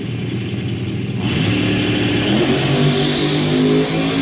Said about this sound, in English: 400 cubic inch Chevy engine on nitrous oxide